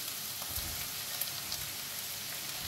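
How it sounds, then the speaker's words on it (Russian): Sweet onion fries in a pan, giving a steady, moderately quiet sizzle with fine crackling throughout and no talk. "приступаю уже жарить лук."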